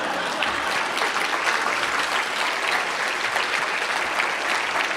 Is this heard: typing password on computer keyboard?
no